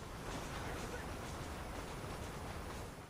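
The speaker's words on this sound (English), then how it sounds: "It's a train." A train rumbles past as a dense, continuous roar of rolling wheels in the video game Red Dead Redemption, staying fairly quiet and even throughout with no talking.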